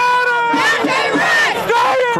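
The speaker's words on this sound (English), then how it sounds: "Crowds of protesters packing streets in Brooklyn Center." Protesters crowd the streets of Brooklyn Center, a loud mass of voices shouting and chanting together in overlapping, rising cries, close and energetic.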